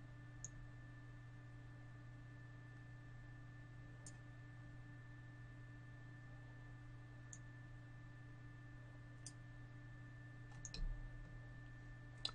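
A computer mouse clicks faintly while a 3D can packaging model is edited, sparse single clicks spaced several seconds apart over a steady low hum, with a small cluster near the end.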